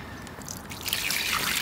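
Water poured over a large carp on the bank at a French lake, a close trickling splash that grows steadily louder and fuller over a second or two.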